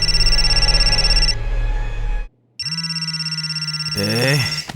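A telephone rings in repeated bursts of electronic trilling tones, cut by a brief silence before ringing again, with voices talking over it in a film scene.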